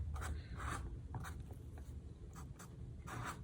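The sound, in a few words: marker pen swooshing on paper while drawing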